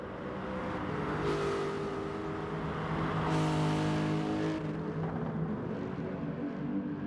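A Lexus race car in a video game revs hard and drifts at full throttle, a loud continuous engine drone with rising and falling pitch and swells of tire and exhaust noise throughout.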